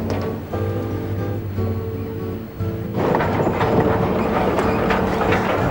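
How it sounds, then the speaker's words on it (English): A steam train rumbles loudly along the tracks with a heavy, steady roar that grows denser midway through, no voices present. "the clickety-clack of the tracks, the creaking of the cars, and the unmistakable whistle"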